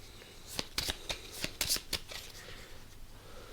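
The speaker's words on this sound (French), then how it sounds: "il n'est pas nécessaire de mélanger son deck, mais comme moi je vais jouer à l'aveugle pour monsieur Cro-Magnon, je ne vais pas les laisser dans le même ordre" A deck of cards for a bluffing board game being shuffled up close, a quick burst of crisp riffling flutters and slaps over about two seconds, then quiet handling, with no voices.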